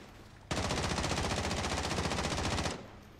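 Sustained automatic gunfire in Call of Duty Warzone on an Alcatraz map, a rapid machine-gun burst lasting about two seconds, loud and close, then cutting off.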